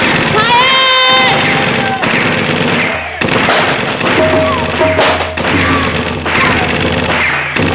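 Staged gunfire effect in a jatra stage play: a rapid string of loud bangs and crackles over a booming sound system, with shouting voices and theatrical music around the shots.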